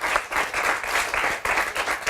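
Steady, dense applause from a studio audience for the writer Dominique Lancastre on a Guyanese TV show, many hands clapping together in loud waves that swell and ease, with no voices.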